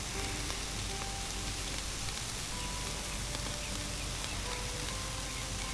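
Tri-tip sears directly over hot coals, giving a dense, constant sizzle that holds steady and loud from start to finish with no voices.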